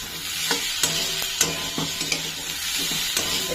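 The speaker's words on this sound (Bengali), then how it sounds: "আলু আর পেঁয়াজটা বেশি ভালো করে ভেজে নেব" Potatoes and onions fry together in a pan for a spicy mustard-poppy puti fish curry, a steady close sizzle broken by several sharp scrapes and knocks of a spatula stirring them, with no talk.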